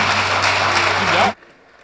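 Church revival congregation applauding, a full steady burst of clapping that cuts off abruptly near the end, leaving near silence.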